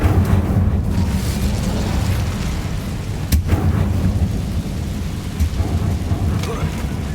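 Incendio fire spell cast in the video game Hogwarts Legacy, a sudden sharp burst midway through over a steady, loud low rumble resembling crackling flames or a storm, with a few smaller flares afterward.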